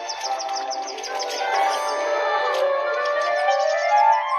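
Ducklings peep in a steady stream of high, thin chirps, close and continuous, with several birds calling over one another and no talk.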